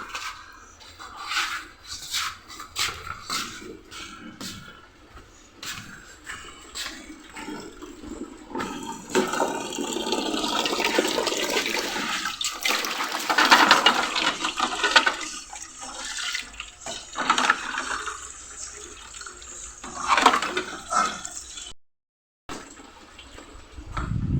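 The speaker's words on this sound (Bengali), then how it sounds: "জল ভরে নিয়ে আসলাম কলার থেকে, এক জগ জল নিয়ে আসলাম" Water running from a tap into a jug, with a continuous splashing gush that swells and varies in pitch as the vessel fills, close by, broken by brief clatters and a short pause near the end, with no talking.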